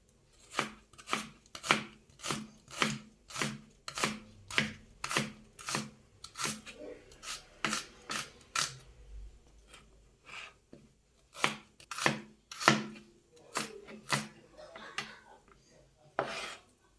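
Knife chopping through an onion on a board in a home kitchen, a steady run of sharp, close, evenly spaced cuts that pauses briefly midway and then resumes, with faint kitchen clatter and no talk.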